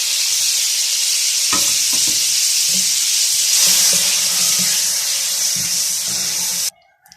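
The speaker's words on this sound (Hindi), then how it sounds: "अब हम इसको अच्छे तरीके से गोल्डन होने तक भून लेंगे।" Grated onion fries in oil in a cooking pot, producing a loud, steady hiss close by, with occasional scrapes and knocks of stirring. The sound stops abruptly at the end.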